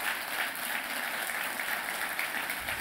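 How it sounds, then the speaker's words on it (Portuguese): An audience claps for a speaker, a dense, even patter of many hands that stays steady and moderately loud throughout, with no talk over it. "Uma salva de palmas para o André, gente"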